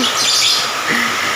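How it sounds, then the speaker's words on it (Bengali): Birds chirp and tweet in quick, bright calls at close range through a steady hiss of morning rain, with no voices. "এদিকে পাখি কিচিরমিচির"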